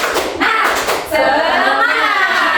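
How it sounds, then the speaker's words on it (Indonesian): A fifth-grade class performs the 'tepuk semangat' spirit clap, a burst of rhythmic hand claps mixed with children's voices chanting along, close and fairly loud throughout. "Tepuk semangat"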